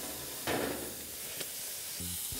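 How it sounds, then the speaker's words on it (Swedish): Food frying on an outdoor grill in Karlstad, Sweden, giving a steady broadband sizzle with a couple of brief louder hissing flare-ups, close by and with no voices. "Steker sig lite här."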